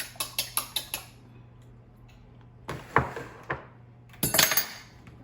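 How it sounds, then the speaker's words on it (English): Old-fashioned hand-cranked egg beater clicking and clinking against a bowl in a home kitchen, a quick run of about seven even ticks followed by two more scattered bursts of rattling, close and fairly quiet. "That's a good old-fashioned egg beat right there"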